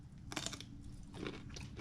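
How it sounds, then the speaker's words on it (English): Crisp, crunchy bites and chewing of raw kale, close to the mic, with several sharp crunch bursts over about two seconds and no talking. "Crunchy, look at that, it's crunchy, kale."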